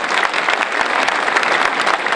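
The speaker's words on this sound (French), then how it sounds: "applaudissez l'équipe, elle est première." At a New Year's civic ceremony, an audience applauds a first-placed sports team with dense, steady clapping that fills the room at close range.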